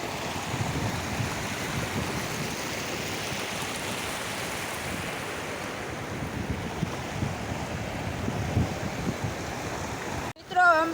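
Floodwater spills over a small bridge beside farm fields after heavy rain, giving a continuous broad rushing wash with gusty wind buffeting the microphone and a brief knock right at the end.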